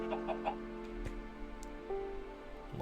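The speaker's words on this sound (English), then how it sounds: "that is the lava chicken." A lava chicken in Minecraft Sky Factory 3 clucks in short bursts near the start over a steady game-music drone, with a few faint clicks and tones.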